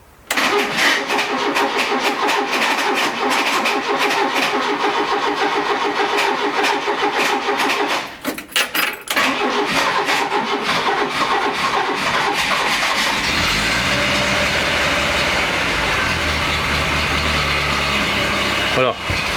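A car engine cranks and catches after an oil change, then runs loudly with a rough, knocking idle that settles into a steady rumble near the end.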